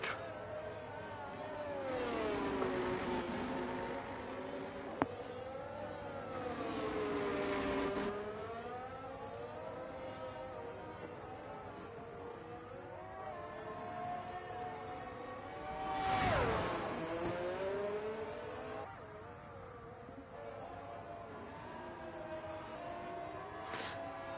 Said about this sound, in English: you'll be able to hear that Aston Martin, that Mercedes engine around the rest of this lap